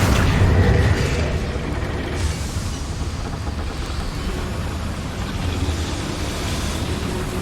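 Incendio fire spell cast in Hogwarts Legacy: a loud, dense roaring whoosh of flame bursts up and then settles into a steady, rushing fiery rumble that carries on for several seconds.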